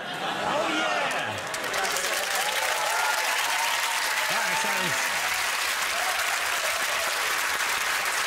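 A studio audience at a comedy game show taping of 8 Out of 10 Cats Does Countdown breaks into lively, sustained clapping, with a shout and some crowd chatter layered over the steady applause.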